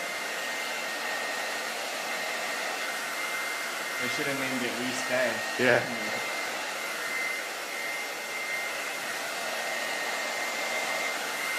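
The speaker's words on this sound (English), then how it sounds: "great blow, great blow dryer" A Wigo blow dryer runs steadily while drying hair in a salon, a loud continuous airy roar that holds throughout, with brief talk in the middle.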